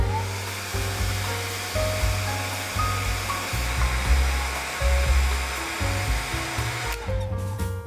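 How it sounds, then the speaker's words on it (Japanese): A hair dryer blows steadily and loudly at close range, drying a watercolor pencil sky drawing, with a continuous airy roar that cuts off near the end. "でこれくらいに溶かせたらドライヤーで乾かします。"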